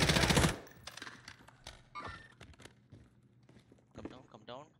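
Close bursts of automatic gunfire open a round of the video game Warzone, followed by scattered shots, clatter and footsteps as players talk in the background.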